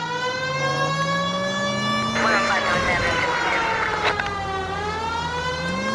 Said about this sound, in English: Turn on the siren and pull her over.